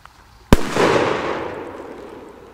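A Big Bang 2G Polish firecracker (Polenböller) goes off with one sudden sharp, very loud bang, followed by a long rumbling, crackling decay that fades over about two seconds, with no voices.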